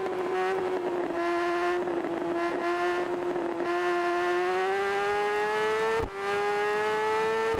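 A motorbike engine races in the RiMS Racing video game, a loud, steady high-revving whine that climbs slowly in pitch and dips briefly at a gear change, with no talking.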